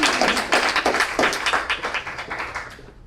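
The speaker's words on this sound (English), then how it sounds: "please give him a round of applause" Museum audience at an art and history talk gives a round of applause for a guest speaker: close, distinct hand claps in a quick rhythm, loud at first and gradually thinning out to silence.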